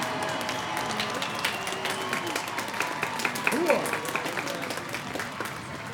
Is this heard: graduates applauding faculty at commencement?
yes